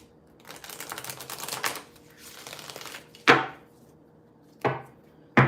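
Tarot or oracle cards shuffled by hand in a quiet indoor room: a long run of soft riffling and rustling, then several sharp, close snaps as the deck is squared and bridged.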